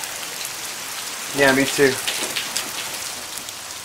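Steady rain falling during a thunderstorm, a continuous hiss throughout, with two short bursts of nearby talk in the middle.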